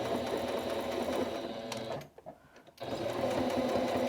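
A sewing machine runs steadily while contrast stitching a cushion for a deck, pausing briefly midway, then resuming its close, even whirring hum.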